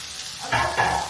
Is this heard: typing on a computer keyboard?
no